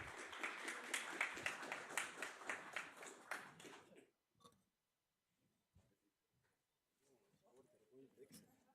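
A burst of audience applause at a game jam event for about four seconds, then it fades into quiet with scattered voices and rustling.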